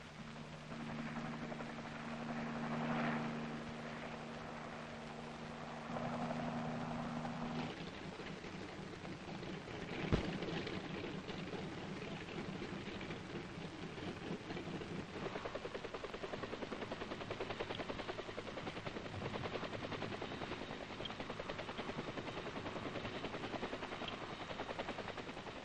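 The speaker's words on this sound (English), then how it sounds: "Then the troop carriers take off, well in advance of the H-21 group following." H-21 helicopters and troop carriers lift off together, a steady loud rotor chop and engine roar with a droning tone early on, continuous throughout and heard on its own.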